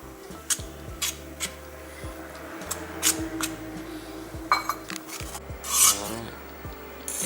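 Spring roll filling paste being stirred in a bowl, giving repeated scraping and rubbing strokes at a steady rhythm, close and moderately quiet, with a few sharper clicks of the spoon against the bowl.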